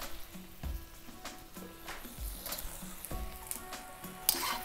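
Cubed eggplant sizzles and crackles in a hot pan over high heat, a steady close frying hiss broken by occasional stirring scrapes and soft clinks of the pan.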